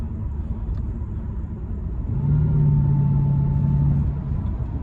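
A 2006 Jaguar XKR pulls hard without downshifting, a low steady engine rumble from inside the cabin swelling into a louder sustained drone midway, with no talk over it.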